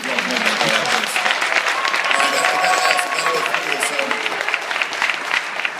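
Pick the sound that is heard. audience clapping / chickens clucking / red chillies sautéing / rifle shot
audience clapping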